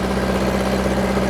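A 1969 Volkswagen dune buggy sand rail engine runs at a steady idle, a loud, constant low rumble with exhaust drone filling the whole stretch.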